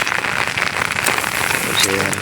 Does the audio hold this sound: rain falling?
yes